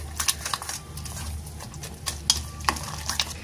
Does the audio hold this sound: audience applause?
no